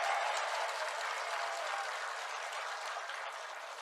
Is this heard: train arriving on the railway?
no